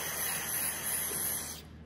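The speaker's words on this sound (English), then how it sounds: "I'll spray down where the slide was." Cleaner sprayed from an aerosol can into a carburetor body near where the slide sits, one continuous close hissing burst that cuts off near the end, with no talking.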